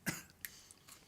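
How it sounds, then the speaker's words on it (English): A single short cough followed by a couple of softer throat noises, close and fairly quiet. "I'm coughing."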